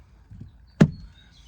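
Trim piece behind the door pull on a Porsche Cayenne 958 driver's door is pried loose with a single sharp, close snap that fades quickly over quiet background.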